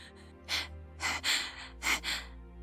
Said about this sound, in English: My vision began to blur as I leaned against the locker and began breathing heavily